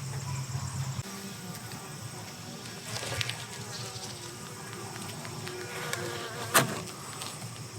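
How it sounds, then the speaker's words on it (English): Worker bees buzz continuously nearby, a droning hum with individual insects passing close, plus a few faint clicks and taps. "Nothing but some worker bees."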